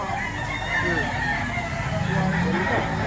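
Gilmore gamefowl roosters at a busy livestock market in Lipa, Batangas, with crowing and clucking over market bustle while people talk nearby.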